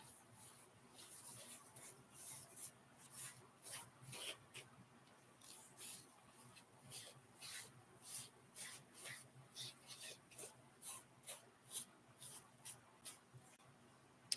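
Gilding flakes are rubbed by hand onto an embossed surface in a faint, steady series of short scratchy strokes that repeat rhythmically, close and quiet.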